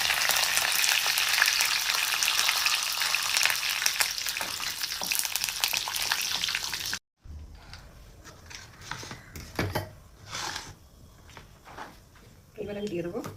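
Curry leaves, cumin, chana dal and urad dal hit hot oil with a loud crackling sizzle for several seconds, then a cut to quieter cooking with scattered clatter and knocks.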